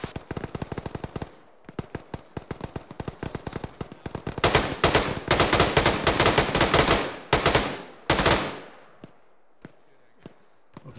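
Rapid machine-gun bursts and gunshots in a video game firefight, loud and close, with dense rattling volleys building in the middle before tapering to a few scattered shots near the end.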